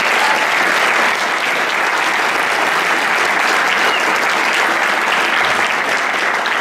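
Loud, dense applause from a large crowd at a hackathon closing ceremony, a continuous wash of many hands clapping at once, sustained and even with no talking over it.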